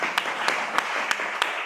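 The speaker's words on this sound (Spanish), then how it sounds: "un aplauso, por favor" Brief audience applause at an academic talk, a soft continuous patter of clapping with a few louder individual claps standing out at regular intervals.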